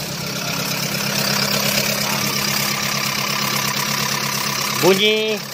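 A Proton Campro engine with faulty valve lifters idles roughly and steadily with a ticking, clattering texture throughout; a short voice breaks in near the end.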